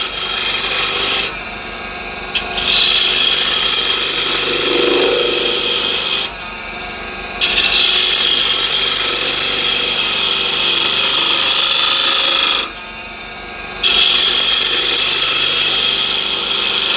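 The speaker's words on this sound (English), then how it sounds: "card scraper is removing a little wood, and here you have a big edge" Card scraper, a refiner scraper with a big edge, shaving a wood surface in long, loud, continuous strokes, close up, with a couple of short pauses between passes and no talking.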